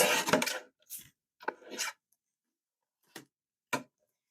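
A paper trimmer slices card paper in a few short rasping strokes, a longer cut at the start then brief separate swipes and light clicks with quiet pauses between.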